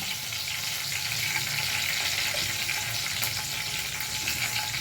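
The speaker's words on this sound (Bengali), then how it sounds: "আর একটুখানি দেবো জিরে ফোড়ন" Cumin seeds with bay leaf, cinnamon and cardamom sizzle in hot oil, an even, continuous crackling hiss close by with a faint sharp tick near the end.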